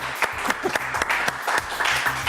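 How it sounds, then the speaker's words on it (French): Studio audience applause on a French news show, a lively burst of many hands clapping at close range that continues without a break, with faint voices underneath. "que je vais l'applaudir très fort"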